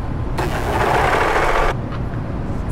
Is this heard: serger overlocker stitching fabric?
yes